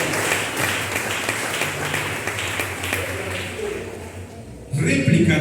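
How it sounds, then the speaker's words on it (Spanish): A church congregation applauding, dense sustained clapping that fades gradually before a louder burst of voices cuts in near the end. "¿Cuánto aplauden a Jesús?"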